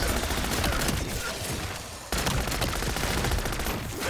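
MP40 submachine gun firing in a Zombies video game: dense rapid bursts of automatic fire, loud and close, with a brief pause near the middle before the stream of shots resumes.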